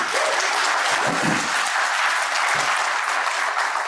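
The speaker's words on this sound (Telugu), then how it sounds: "మీరు అట్లా చప్పట్లు పెడితే ఒక 3 ఏళ్లలో వచ్చేస్తాము" An audience at a political speech in Telangana claps in sustained, even applause, loud and dense throughout, with no break.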